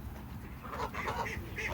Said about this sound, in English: Oh, look, here come the geese.